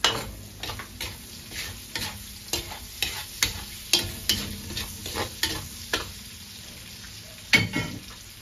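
Onion sautés for pinakbet in a pan with a continuous sizzle, and a utensil scrapes and taps the pan in a regular stirring rhythm, close by with no talk.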